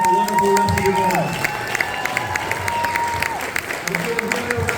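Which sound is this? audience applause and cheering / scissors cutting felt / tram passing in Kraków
audience applause and cheering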